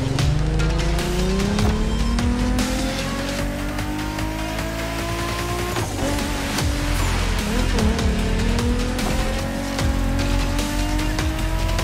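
Japanese drift race cars in The Crew Motorfest roar continuously with loud, sustained engine revs and squealing tires through slides, a dense unbroken wall of racing noise.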